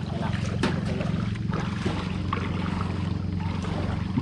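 A motorized fishing boat (bangka) heading out for sabiki fishing, its engine putting with a steady low throb and harmonic drone, accompanied by wind and water noise, with a few faint knocks.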